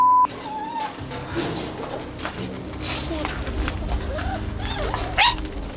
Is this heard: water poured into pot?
no